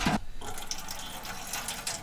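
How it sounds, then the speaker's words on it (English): Water drains from the spigot of a domestic hot water tank for a solar thermal system in a garage, a steady close rushing and trickling flow after a brief louder burst at the start, with no voices. "We can start draining the water."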